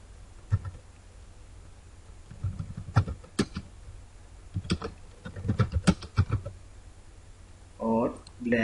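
Keys tapped on a computer keyboard while entering text into a Microsoft Word document, coming as short bursts of clicks and taps close by, with a brief stretch of voice near the end.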